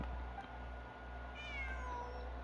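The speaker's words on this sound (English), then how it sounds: "It really is a cat." A cat in Genshin Impact gives a single drawn-out meow, faint and mid-distance over a low steady background hum, with no speech.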